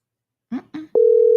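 Telephone busy or ring-back tone on a phone line: two short voiced bursts, then a single steady electronic tone that holds unbroken to the end, fairly loud and close.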